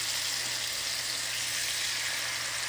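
Small pieces of fish for tacos frying in butter, giving a steady, even sizzle and crackle that holds at constant level without pauses, close and moderately quiet, with no talking.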